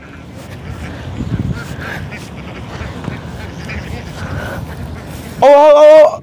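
A flock of farm ducks kept by a boy give a loud burst of close quacking near the end, after several seconds of quieter outdoor background with faint voices.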